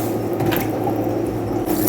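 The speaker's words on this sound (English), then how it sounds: "I'll give her a rinse" Water running steadily over a raw turkey during rinsing, a continuous dense splashing wash, close and loud throughout.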